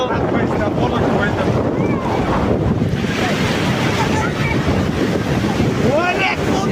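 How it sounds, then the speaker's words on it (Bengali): Heavy surf at Cox's Bazar beach during a low-pressure storm, a loud continuous roar of crashing waves with strong wind buffeting the microphone and faint distant voices of bathers. "নিম্নচাপের কারণে প্রচন্ড ঢেউ চলতেছে।"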